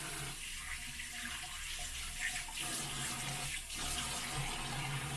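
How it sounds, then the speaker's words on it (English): Tap water runs steadily into a sink while someone rinses their face, a close continuous splashing flow with brief interruptions as hands move through the stream, no talking. "let me rinse my face"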